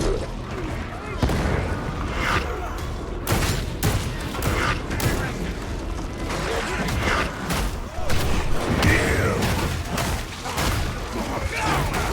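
Chaotic combat in Warhammer 40K Darktide as an explosive barrel is shot and bursts, heavy booms and rapid gunfire crashing together at close range, with voices talking over the din.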